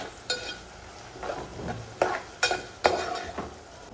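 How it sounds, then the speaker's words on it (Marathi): Onions fry in oil in a pan, a soft continuous sizzle broken by several sharp scraping stirs of a spatula against the metal, close and fairly loud, with no talking. "मस्त कांदा एकदम ट्रान्सपरंट करून घेऊ, गोल्डन असा"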